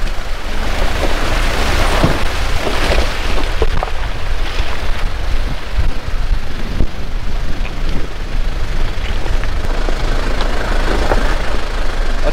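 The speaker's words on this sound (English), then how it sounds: "it's quite a skill driving an old series Land Rover with no power steering" An old series Land Rover with no power steering grinds along a four-wheel-drive trail near Christchurch, New Zealand, giving a steady close engine rumble under constant wind-like road noise, with no talking.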